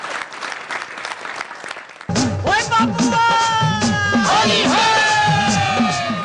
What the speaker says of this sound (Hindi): बजा सकते ताली आप लोग